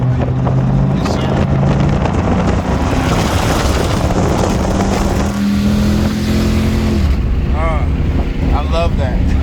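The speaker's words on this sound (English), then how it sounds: "he's gonna hit that gas on the highway" A straight-piped 2014 Dodge Charger R/T accelerates hard on the highway, heard from inside the car as a loud raspy exhaust roar that climbs through the gears with wind rush and brief voices.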